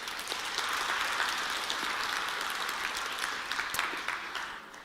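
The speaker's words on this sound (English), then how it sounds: "let's give them a biggest round of applause again." A crowd at a university welcome ceremony claps steadily in a full, dense round of applause that holds for several seconds before tapering slightly at the end.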